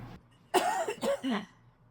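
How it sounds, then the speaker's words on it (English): A single short, throaty cough in a quiet room, broken into a few quick bursts. "take a deep breath, cough, and drop down"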